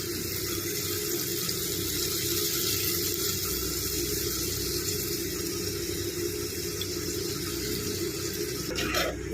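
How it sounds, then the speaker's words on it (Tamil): Water running steadily into a pot of Tamil-style fish curry, a continuous close splashing wash with no talk, ending with a brief clatter. "தேவையான அளவு தண்ணியை வந்து நம்ம ஊற்றிக்கணும்."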